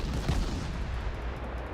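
Naval guns fire shells in a warship game, a dense, continuous low rumble of heavy gunfire and booms that stays loud and steady throughout, with no talking.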